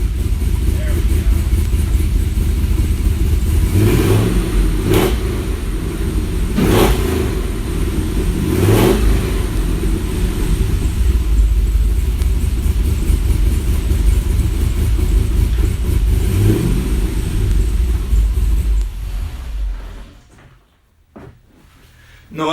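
A Mazda Miata track car built for street use, with no active exhaust, revving loudly and close with repeated throttle blips over a constant engine roar, then cutting off abruptly near the end.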